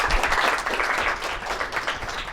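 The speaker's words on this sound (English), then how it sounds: "let's give him another round of applause" Audience at an evening lecture on the long-run effects of natural disasters giving another round of applause, a steady, moderately loud patter of many hands clapping throughout.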